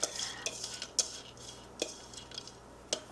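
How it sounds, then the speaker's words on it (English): Dry lentils poured and scraped out of a container into a 6-quart Crock-Pot slow cooker, with a soft rattling pour and scattered clinks and knocks of utensil against pot, fairly quiet and close. "I'm going to put my lentils in here."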